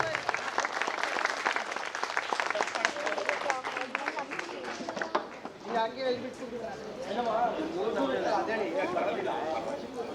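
A crowd at a Kannada Rajyotsava celebration claps loudly for several seconds, the applause thinning midway before swelling again, while voices talk and call out over it.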